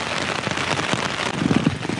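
Heavy rain drumming and spattering against a leaking Hilleberg tent, spraying through everywhere, a dense, loud, constant hiss with scattered close drips.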